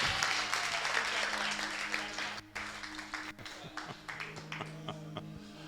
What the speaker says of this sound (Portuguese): Dá um aplauso para eles, por favor.